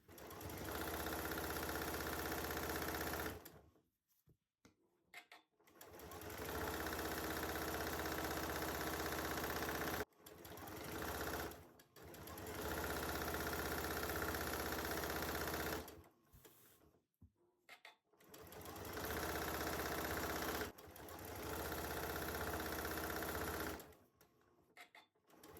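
A sewing machine stitches quilt block pieces for a tulip star block in four steady runs separated by short stops, close by and fairly quiet.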